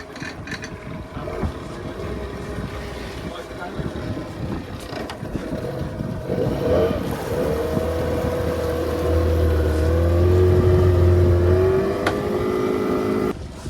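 A boat engine drones steadily on the Karli river, its low hum rising slightly in pitch as it speeds up, with wind and water noise around it.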